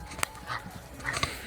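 A very large dog at a campground in the Peruvian Andes gives short whimpers and a couple of sharp yips, close by, over a soft outdoor background.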